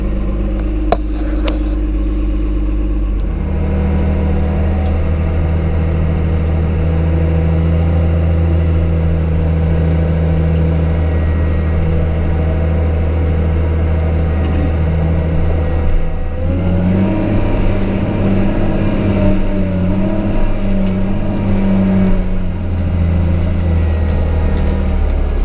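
Engine of log-moving equipment idling as it warms up, a loud, steady low rumble that starts abruptly after a brief quiet moment and then shifts pitch slightly midway, with no voices.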